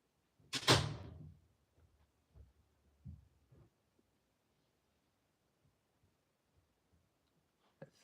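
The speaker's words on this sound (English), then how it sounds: "can you close the door, please?" A door closes with one loud, close thud, followed by a few softer knocks and faint handling sounds, then near silence.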